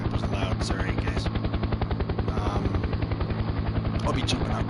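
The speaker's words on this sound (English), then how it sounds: "yeah, the helicopter's loud." Helicopter in Farming Simulator 19, a loud steady rapid rotor chop with a constant engine whine throughout, near and dominant.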